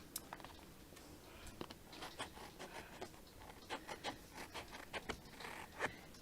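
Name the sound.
cutting shimmer card around a die cut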